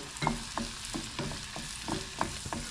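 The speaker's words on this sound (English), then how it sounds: "Got about 2 to 3 tablespoons of minced shallots. Okay, we're going to let those sweat" Minced shallots, about two to three tablespoons, sweat in a pan as a low steady sizzle runs underneath a series of soft, near scraping stirs at an irregular pace.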